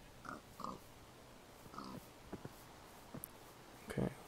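Pig oinking in Minecraft with the Better Than Wolves mod: several short, faint grunts spaced apart, interspersed with soft clicks and game noises, while a person talks quietly.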